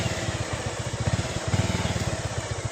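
A motorcycle ridden fast on a rough off-road track, its engine buzzing with a rapid pulsing rhythm that swells and dips slightly, close and fairly loud.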